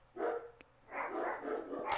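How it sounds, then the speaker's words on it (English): Dogs barking at a distance, two faint bursts of barking separated by a short gap, heard alone without talk in a quiet room. "these dogs are something else"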